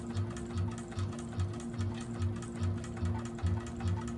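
A 1341 cylinder arm sewing machine back stitches on a bag, its motor humming steadily under a regular rapid stitching rhythm, close and fairly quiet.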